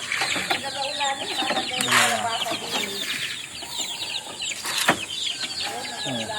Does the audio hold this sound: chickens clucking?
yes